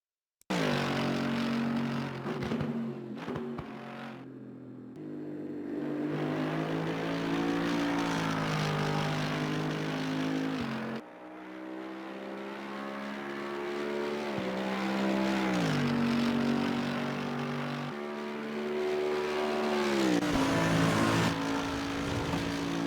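An AMG EVO GT3 race car lapping Monza in Assetto Corsa Competizione, its engine screaming loud and close, climbing through the gears with sharp upshift breaks and dips under braking, no talk.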